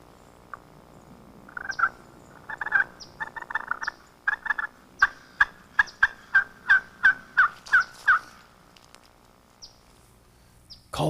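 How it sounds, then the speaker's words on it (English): A wild turkey gobbles repeatedly, a run of rapid rattling bursts that start ragged and settle into a regular pulsing series, outdoors at moderate distance with quiet between calls. "I love to hear that gobble."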